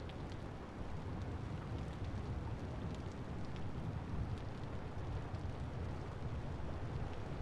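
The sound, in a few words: rain in Vintage Story video game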